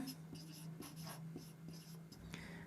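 Marker or chalk writing on a board during a maths lesson on circle area, a run of short scratchy strokes with brief pauses, close and steady under a low background hum, with no talking.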